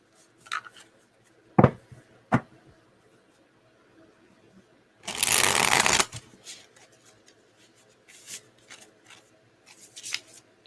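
A Tarot of the Mystical Moments deck being shuffled: a few soft isolated card taps, then one dense riffling burst of about a second, followed by scattered light flicks, close and quiet.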